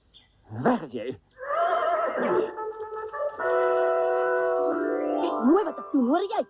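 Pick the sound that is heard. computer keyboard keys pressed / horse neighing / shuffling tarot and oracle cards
horse neighing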